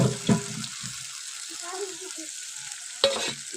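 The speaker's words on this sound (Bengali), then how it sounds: "খুব ভালো করে আমার মশলাটা ভেজে নেব" Spice paste with tomato puree fries in a pan, a quiet bubbling sizzle broken by two sharp spoon stirs against the pan, with a voice talking softly in between.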